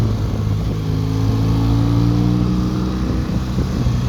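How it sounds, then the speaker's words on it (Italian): A BMW R1200 GS Adventure motorcycle engine held at a steady loud drone while riding, with a blip on the downshift, with no voices. "Sentite che bello quando fate la doppietta."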